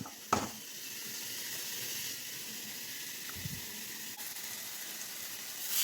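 Spice powders, including coriander powder, frying in a pan for a kidney bean masala curry, giving a steady soft sizzle and hiss with a few faint scrapes from stirring, fairly quiet and continuous.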